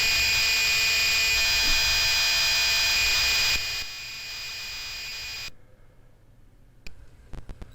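Harsh, buzzing electronic cassette tape loading tones from a retro computer emulator, with a steady high whine, shifting pitch partway through, then dropping away to quieter clicks and short bursts.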